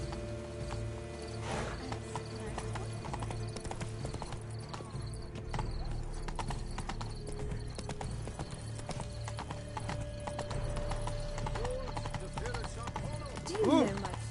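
Horse hooves trot in The Witcher 3 video game with a steady, continuous clip-clop close at hand, while character voices talk over it and a short whinny-like sound rises near the end.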